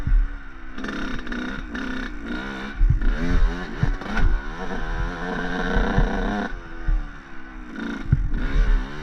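A dirt bike engine revs hard and unevenly while riding up and over a log, the throttle surging and dropping in repeated bursts as the rear wheel loses drive at the top.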